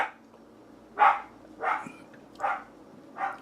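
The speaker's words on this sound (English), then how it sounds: "there's the dog again. Guarding the yard from squirrels or birds or whatever." A dog guarding a backyard lets out four separate barks, evenly spaced about two-thirds of a second apart, at moderate loudness and slightly distant, with quiet between them and no talk.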